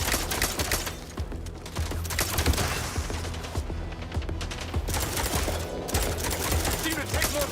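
Robots in the video game Mind's Eye fire dense, rapid volleys of gunfire that rattle almost without pause across the whole stretch, loud and close, with occasional speech mixed in.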